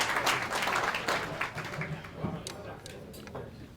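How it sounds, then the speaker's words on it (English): Guests at a 2022 gala dinner applaud a high commissioner, a full round of clapping that is loud at first and then gradually thins and quiets, with scattered closer claps near the end. "Another huge round of applause, people, for His Excellency, the High Commissioner of Bangladesh."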